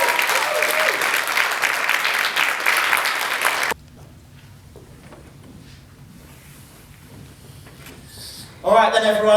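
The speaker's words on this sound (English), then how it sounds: "give them all another round of applause" Audience applause at a cabaret show bursts loud and dense for the first few seconds, then cuts to a quiet stretch with faint room noise before a voice begins near the end.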